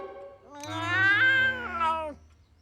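A cartoon cat lets out one long, drawn-out meow, loud and close, rising then falling, with a lower hum underneath.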